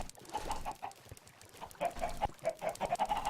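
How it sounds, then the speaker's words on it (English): Chickens on a little Minecraft chicken farm give a steady run of small clucks, growing denser and a bit louder toward the end, with no voices over them. "A little chicken farm."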